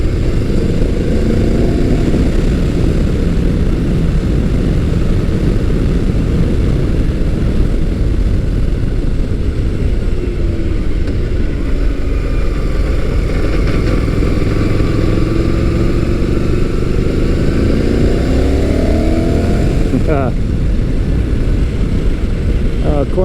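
A Motus MSTR motorcycle with a 1650cc V-4 engine, heard while riding: a loud, steady engine drone mixed with wind rush that rises and falls gently with throttle changes throughout.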